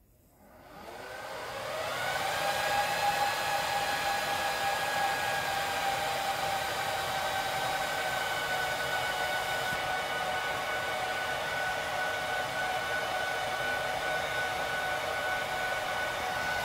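An HP DL380 G8 server starts up: a rising whir settles within two seconds into a loud, steady fan roar with sustained tonal whine that holds unchanged for the rest, with no talk.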